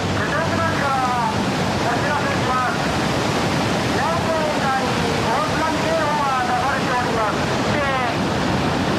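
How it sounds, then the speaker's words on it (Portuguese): Tsunami floodwater in Japan rushes in as a loud, continuous roaring torrent, broadband and unbroken for the whole stretch, with voices faintly audible under the rush. "É uma inundação de proporções bíblicas."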